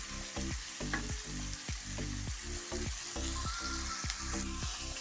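Vegetables for a Kerala mezhukkupuratti stir-fry sizzle in a pan under a soft constant hiss, while repeated rhythmic scraping strokes of a spatula sound close and steady throughout, with no voices.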